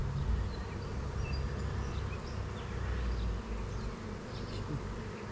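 Dense, steady buzzing of many honeybees in and around a nuc hive, close and continuous, with individual bees droning past; no talking.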